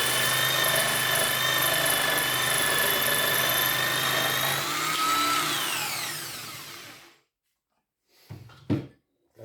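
A corded jigsaw cuts wood, running loud and close, its motor whining steadily, then winds down and stops, leaving silence broken by a couple of brief knocks.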